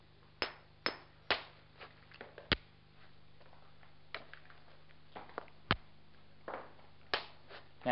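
A soft hammerstone strikes the edge of an obsidian biface during knapping, giving a series of sharp, irregularly spaced clicks and taps, some louder than others, over a quiet background hum.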